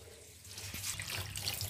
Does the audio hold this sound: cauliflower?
no